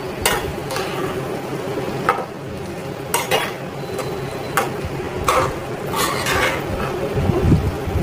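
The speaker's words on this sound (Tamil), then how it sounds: "நல்லா கலக்கி விடணும். ஒரு நிமிஷம் கலக்கினீங்கன்னா போதும்." Vegetable biryani masala stirred in a pan, a continuous low sizzle with regular scraping strokes and clinks of a spoon against the metal, close and moderately loud, no talk.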